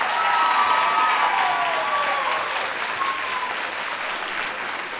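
Sustained applause from an audience at a school choir concert, a broad steady clatter of clapping filling the space for the full length, with a few faint tonal traces and no speech over it.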